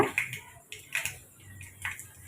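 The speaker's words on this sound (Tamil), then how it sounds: "கடுகு நல்லாவே வெடிச்சிருச்சு" Sparse quiet pops and crackles of mustard seeds spitting in hot oil while cooking sambar, several small sharp bursts at irregular intervals, fairly faint with no talking.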